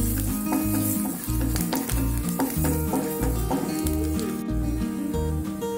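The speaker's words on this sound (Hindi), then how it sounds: "अब हम इसमें लहसुन डाल देंगे और लहसुन को थोड़ा सा ब्राउन होने तक पकाएंगे" Garlic sautéing in a hot pan for tomato soup gives a continuous close sizzle with scraping stirring strokes throughout, and no voices.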